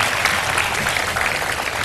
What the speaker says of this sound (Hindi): इस पर भी बहुत सारी तालियां।